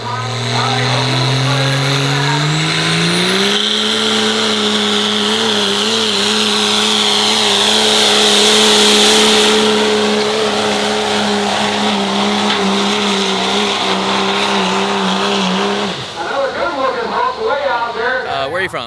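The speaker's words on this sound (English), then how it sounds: "Good clean truck going by." Diesel pulling truck at a street truck pull, a loud sustained engine roar climbing in pitch and holding near, then dropping off toward the end, with crowd and announcer voices beneath.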